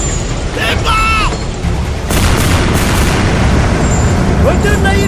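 Loud booms of gunfire or cannon fire ring out in a staged colossal battle drama about Laksamana Malahayati, with shouting voices over dense outdoor noise.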